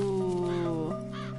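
Crows in the video game The Unfinished Swan, two loud, harsh caws close by, the first drawn out and the second shorter, with no talk.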